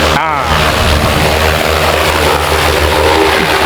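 Steady loud whirring hum of a 30-litre agricultural spraying drone's propellers running continuously, with a brief sharper swell at the start and a constant droning tone throughout.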